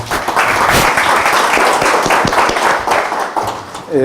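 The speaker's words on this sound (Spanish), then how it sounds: "Pido un cálido aplauso para el ingeniero Salazar." Audience applause for a speaker introduced at an engineering talk on drinking-water piping systems, a dense, steady clapping from a room full of people lasting several seconds and tapering slightly at the end.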